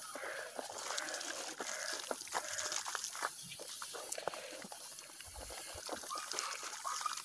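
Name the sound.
strongly flowing river water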